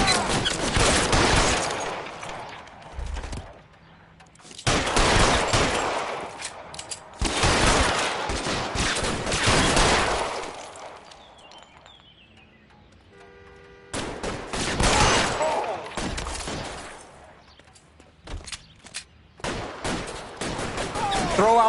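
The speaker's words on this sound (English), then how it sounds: "Fire a warning round." Gunfire in the video game L.A. Noire, in several heavy bursts of rapid shots separated by brief lulls, loud and close, with sharp single cracks at the edges of each volley.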